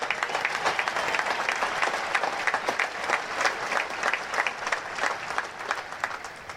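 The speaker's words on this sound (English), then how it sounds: "That's right, you can applaud that." Audience at a US Naval Academy graduation ceremony applauding, a sustained dense clatter of many hands clapping at moderate distance, steady throughout with no talk over it.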